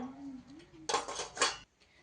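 Pots, plates and utensils clatter while being washed at a village home's water tank: a short burst of metallic clinking and scraping, fairly quiet, then a near-silent pause.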